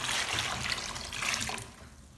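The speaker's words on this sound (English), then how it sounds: "Then add water until the sweet potatoes are fully submerged." Water runs into a basin holding sweet potatoes and baking soda, a close, steady pouring splash that fades out near the end.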